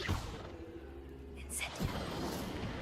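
A Revelio spell is cast in the video game Hogwarts Legacy, giving a soft whooshing swell with a brief bright shimmer over steady ambient game sound, while a voice speaks.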